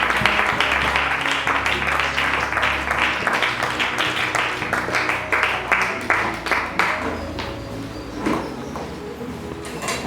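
A church congregation bursts into sustained, lively clapping and cheering during a French-language worship service, filling the room loudly and steadily from start to finish.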